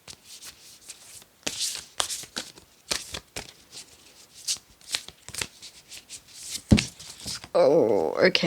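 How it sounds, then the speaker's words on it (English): Tarot cards are shuffled by hand in quick riffling bursts, close and crisp, with cards spilling loose from the deck, and a voice starts talking near the end. "so a lot of cards just fell out"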